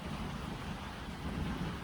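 A heavy rainstorm with thunder roars outside as a steady, dense wash of rain and low rumble, continuous and fairly loud with no clear separate cracks.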